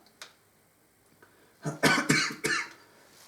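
A faint click, then a burst of several harsh coughs close to the microphone in quick succession.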